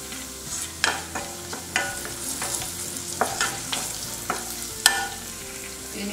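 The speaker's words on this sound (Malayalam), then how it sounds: "മുളക് പൊടി ചേർത്ത് കൊടുക്കാം. ഇതൊന്ന് ചൂടാക്കിയെടുക്കാം." Turmeric and chili powder heat in oil in a pan for a Kerala buttermilk curry, giving a steady low sizzle broken by repeated sharp scrapes of a spoon stirring against the pan, close and with no voices.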